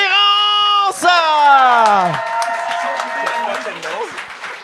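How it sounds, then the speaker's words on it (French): Audience applause and cheering welcoming comedian Nathan L'Espérance onstage at a Gong Show comedy night, rising under a sustained musical chord and then settling into a steady crowd roar with scattered whoops. "veuillez faire un maximum d'applaudissements pour accueillir Nathan L'Espérance"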